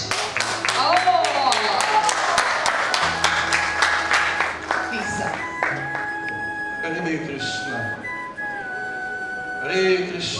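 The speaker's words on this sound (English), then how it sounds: "let's give a big round of applause" Applause from a summit audience, many hands clapping densely at the start and thinning out as tonal sounds and voices take over.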